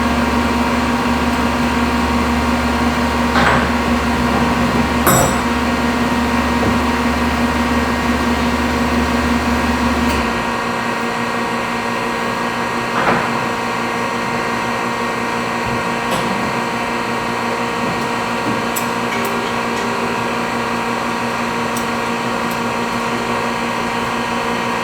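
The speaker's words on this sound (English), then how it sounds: "Don't mind the air compressor running in the background." A steady, loud mechanical hum comes from an air compressor running in a tire shop. It cuts off after about ten seconds, leaving a quieter background drone with a few faint clicks.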